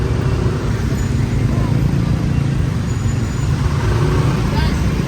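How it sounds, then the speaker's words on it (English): Dense traffic of motorbikes and cars on a hectic Bali road rumbles continuously at close range, a loud, unbroken wash of engines with faint higher whines passing over it. "Millions of motorbikes, cars, everything."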